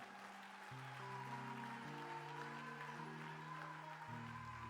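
A church congregation at a Sunday service claps along steadily, with a sustained organ or keyboard chord progression ringing over the applause at moderate, fairly distant level.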